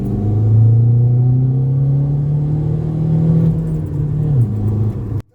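A stage 2 tuned Volkswagen Golf 6 TDI diesel drones loudly and steadily through its exhaust line, dipping slightly in pitch near the end before cutting off abruptly.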